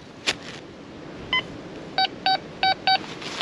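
Metal detector giving a sharp, fairly high-pitched tone over a buried target in a field search, probably a shotgun cartridge fragment: one faint beep, then four short, evenly spaced loud beeps close by, with no talking.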